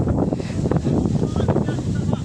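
Strong wind blowing over a wheat field roars and buffets the microphone in gusty, rumbling waves, loud and continuous, with a faint rustle underneath.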